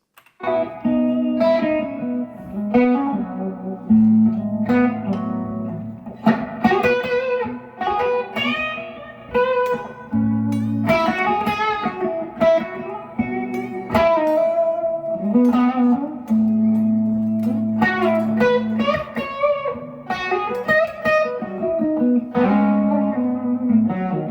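An electric guitar plays a slow, dreamy melody with sustained chords and ringing notes, processed with effects and reverb, loud and alone.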